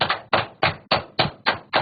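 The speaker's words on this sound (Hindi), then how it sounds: "जोर जोर से क्लैप कीजिए" Hands clap loudly and firmly in a yoga class exercise, seven or eight crisp, evenly spaced claps close up, with nothing else audible.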